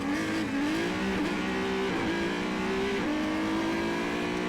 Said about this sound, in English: Here's that start from Gerard O'Connell's onboard.